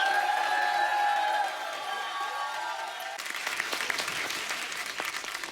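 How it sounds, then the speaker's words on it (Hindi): A studio audience on a Hindi TV comedy talk show applauds, steady dense clapping with a crowd murmur that lifts into brighter, livelier claps and a few cheers toward the end. "एक बार जोरदार तालियां हो जाए।"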